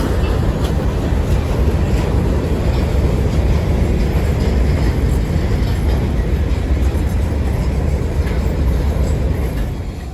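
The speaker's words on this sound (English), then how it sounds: "This train is Norfolk Southern 73N, empty ore out of Huff Power Plant in Pennsylvania to the" Norfolk Southern 73N, an empty ore freight train, rumbles past loud and close in a continuous heavy roar of wheels and cars.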